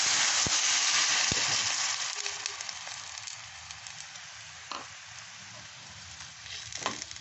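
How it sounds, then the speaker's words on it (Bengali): Chicken stock poured into a hot frying pan while cooking chicken bharta, giving a loud steady sizzle that eases into a quieter simmering crackle, with a few stirring clinks. "এই সময় আমি এই চিকেন স্টকটা আছে সবটাই দিয়ে দিই"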